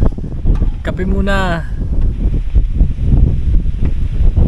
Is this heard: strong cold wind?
yes